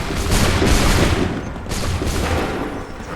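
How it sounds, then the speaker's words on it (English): A dense musket volley roars out in Assassin's Creed 3, a continuous loud crackle of many shots layered into a rolling fusillade that swells and subsides over a few seconds, with no talk. "Open fire."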